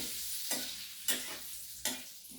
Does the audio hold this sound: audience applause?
no